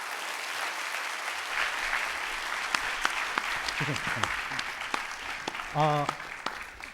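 An audience claps steadily through a startup demo day event, a soft continuous patter with a few sharper claps standing out and brief voices emerging near the end.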